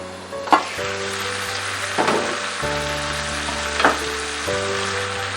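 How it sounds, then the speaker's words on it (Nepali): Tomatoes cook in a covered pan for a Nepali mustard greens dish, giving a steady loud sizzle with a few sharper pops and crackles throughout. "टमाटर राम्ररी गलुन्जेलसम्म यसलाई छोपेर पकाउनु पर्छ"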